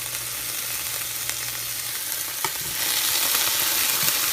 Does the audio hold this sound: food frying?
yes